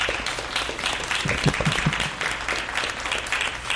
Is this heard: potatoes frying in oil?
no